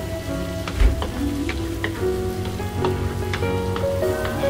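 Butter melting in a pan sizzles steadily and close, a continuous crackling hiss with scattered pops, for shrimp cooking with garlic to follow.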